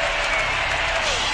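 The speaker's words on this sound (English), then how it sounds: "They are standing and cheering here in Milwaukee" Home crowd at a Milwaukee basketball arena standing and cheering, a dense steady roar of applause and voices filling the whole moment.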